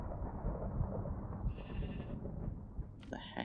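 A sheep in the modded Minecraft pack All The Mods 9 gives a short bleat over a steady noisy game background, with a second brighter bleat near the end.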